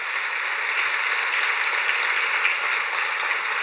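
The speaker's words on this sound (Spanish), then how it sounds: "Dele un aplauso fuerte al Señor." A church congregation applauds together during a sermon, a dense, steady wash of clapping that continues evenly throughout without voices.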